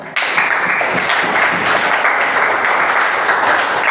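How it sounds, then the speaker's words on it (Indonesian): A classroom of students applauds three classmates with steady, bright clapping that starts abruptly and holds at an even level throughout. "Tepuk tangan untuk tiga teman kita."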